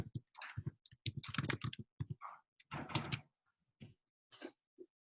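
Fingers type on a computer keyboard in quick irregular bursts of close, crisp key clicks, separated by short pauses.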